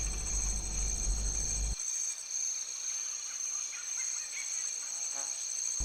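Insects buzz around fruiting plants, a steady high-pitched drone held throughout with faint fluctuating whines. A low rumble at the start cuts off abruptly.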